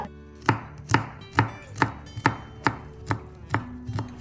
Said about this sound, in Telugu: గార్లిక్ ఫైన్గా డైస్ చేసేసుకోండి